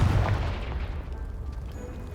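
A Confringo blasting spell in Hogwarts Legacy bursts with a loud, close boom that decays into a rumbling crackle and fading debris.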